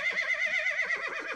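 A horse in a barn whinnies loudly and close, a long quavering high-pitched neigh that rises and falls in waves, with no speech over it.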